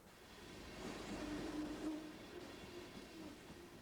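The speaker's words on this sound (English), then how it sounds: "The train that is going by the ship right now is called a freight train." A freight train rolls past near a ship, a faint, steady rumble with a soft clatter that rises slightly and then eases as it passes.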